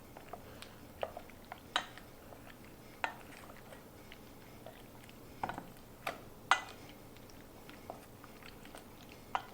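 A spoon stirs marinated mushrooms in a bowl, giving close, intermittent soft clicks and wet scrapes at an uneven pace, with no talking.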